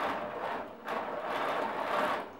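A sewing machine runs a zigzag stitch up and down across the overlapped ends of elastic for a pencil skirt, a steady close whirring hum with a short pause before the stitching resumes.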